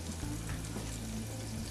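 Ingredients cooking down in a pan for baked macaroni and cheese make a soft, even sizzle, fairly quiet and steady over the short stretch, without voices.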